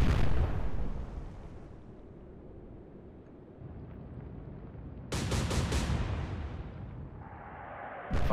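Battleship main guns firing in the naval warfare game Atlantic Fleet, a deep rumbling salvo followed by a second sharp, loud blast near the end, with low rolling rumble between.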